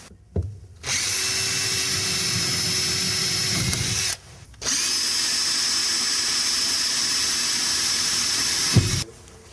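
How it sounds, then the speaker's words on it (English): A power drill whines steadily through two long bursts, pre-drilling a window's nailing flange at stud locations, stopping briefly in between, with a final short start and stop at the end. "I'm going to pre-drill it in the stud locations"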